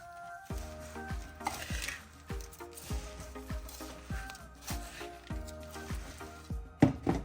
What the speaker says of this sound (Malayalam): ഇനി നമുക്കെല്ലാം കൂടെ നന്നായിട്ടൊന്ന് യോജിപ്പിക്കാം.